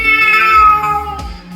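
A cat gives one loud, drawn-out meow close by, with a falling tone and a short tail at the end, heard alone without talk.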